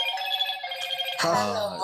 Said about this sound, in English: This is what happens when you don't put your phone on silent during podcast recordings.